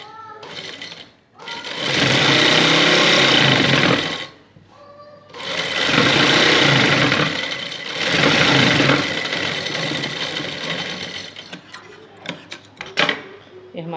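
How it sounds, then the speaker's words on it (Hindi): A sewing machine runs in long, steady whirring stretches as it stitches gum lace onto fabric, pausing briefly between runs, close and loud. A few clicks and handling noises follow as it stops. "अब इसके ऊपर सिलाई लगाएंगे। आप चाहें तो हैंड स्टिचिंग भी कर सकते हैं, या सिलाई भी लगा लें। मैं सिलाई लगा के आपको बताऊँगी।"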